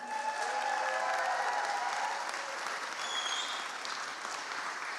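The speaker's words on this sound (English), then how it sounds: "Can we get another round of applause for him?" A roomful of people at the Horror Game Awards 2025 applauds in a steady, even wash of clapping that fades slightly toward the end, with a few faint voices mixed in.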